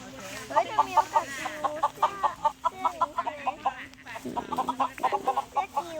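Several chickens cluck in quick, repeated bursts inside a coop, close by and fairly loud, with a steady low hum underneath.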